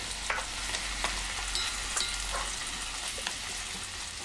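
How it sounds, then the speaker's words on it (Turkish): Onions fry and are stirred in a pan, a steady close sizzle broken by several light, evenly spaced scraping strokes, with no voices. "sonra hemen soğanları içerisine ilave ediyorum. Şöyle bir karıştırdıktan sonra yaklaşık yarım çay bardağı kadar su ekliyorum."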